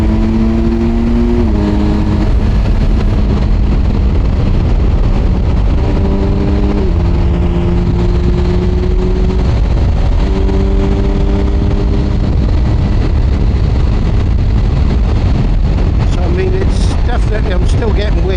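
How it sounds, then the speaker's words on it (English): Heavy wind roars constantly past a rider's helmet on a moving Kawasaki Versys 1000 SE GT motorcycle, with the engine droning underneath and its pitch stepping up and down as the bike changes gear. "I'm still getting wind, definitely still getting the wind there."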